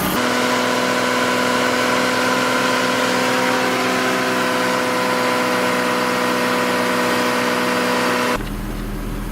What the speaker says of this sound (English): I'm gonna rev it a little, get some heat into it.